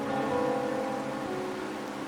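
Steady rain falls at night in a video game, a continuous, even hiss of close, moderate downpour heard alone.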